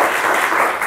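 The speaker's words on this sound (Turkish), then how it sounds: "Alkış zaten Ahmet Bey'den geldi." Studio audience applause on a Turkish TV word quiz show, a dense burst of clapping filling the short moment at full loudness.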